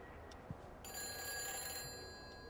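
A payphone at a gas station in the game Everybody's Gone to the Rapture rings with a sustained electronic bell that starts partway through, fairly loud and steady over quiet ambience.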